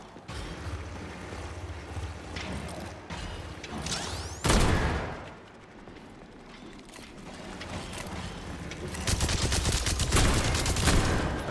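Automated turrets firing in the game Atomic Heart, with rapid bursts of gunfire and mechanical clanking, a loud blast midway and a sustained heavy volley toward the end.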